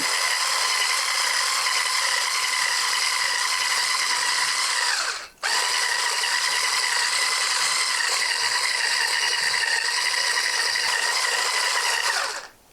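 An electric mixer creams butter and sugar in a mixing bowl for apple swirl bread, giving a steady, loud mechanical whir that cuts out briefly midway, then resumes until it stops near the end. No one speaks.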